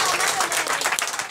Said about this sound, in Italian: Mi fate un applauso per Merola,